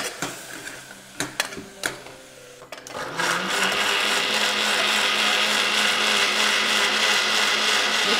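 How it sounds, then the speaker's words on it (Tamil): A mixer grinder whirs into action on sautéed masala for mutton kulambu; a few clacks and handling knocks come first, then the motor surges to a loud, steady roar that runs to the end. "இப்போ வதக்கி வச்ச மசாலாவை நம்ம அரைக்க போகிறோம்"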